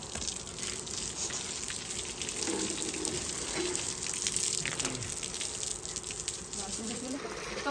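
Irrigation water flows steadily while a farm field is watered, a continuous close gushing and splashing with a faint voice partly underneath.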